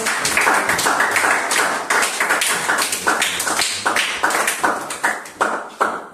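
A church congregation claps in uneven bursts of applause during a Sunday service, close and lively, swelling and fading in waves.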